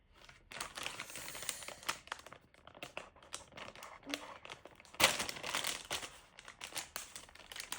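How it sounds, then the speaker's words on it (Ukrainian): Crinkly plastic rustles and tears close by, with sharp crackling bursts and a louder rip partway through, no talking over it. "Давайте другий пакетик відкриємо."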